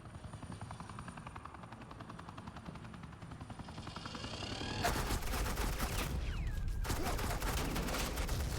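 Helicopter rotor thumping with bursts of suppressing gunfire in the Batman: The Enemy Within video game, a steady rotor drone that swells into loud, dense rapid fire for the last few seconds.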